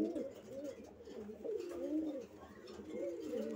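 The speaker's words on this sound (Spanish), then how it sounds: "Aquí es donde tengo concentrado la mayoría de todos los palomos míos." Domestic racing pigeons cooing in a loft, several birds giving soft repeated rolling coos close by, with faint background noise and no talk.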